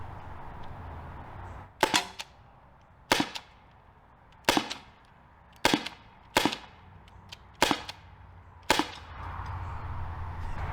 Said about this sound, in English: I'm just shooting this towel. We're going for groupings, and we're seeing shot count, how many rounds we can actually get through the gun effectively.